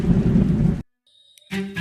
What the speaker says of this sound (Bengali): বৃষ্টি তখনও ঝরছে অবিরত। মেঘের গর্জন মাঝে মাঝেই সবকিছু কাঁপিয়ে তুলছে।